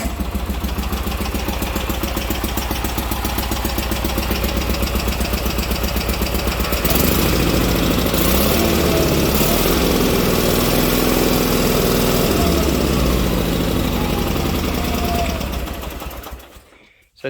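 Sears Roper lawn tractor engine cranking, then catching and running at a steady idle, loud and close, with a continuous rhythmic mechanical chug that carries on for over fifteen seconds before cutting off.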